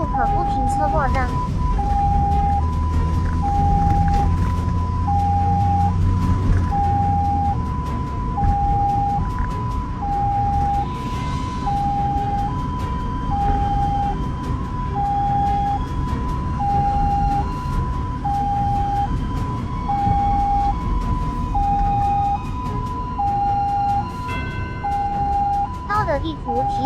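An ambulance siren on a 120 emergency run through morning rush-hour traffic, recorded from inside the vehicle: a loud, steady two-tone wail repeating evenly over engine and road rumble for the whole stretch.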